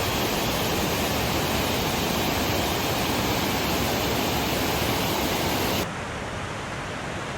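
The highest waterfall in the Faroe Islands roars in a dense, unbroken rush of white noise, loud and close, easing slightly near the end.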